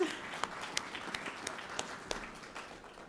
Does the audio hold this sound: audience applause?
yes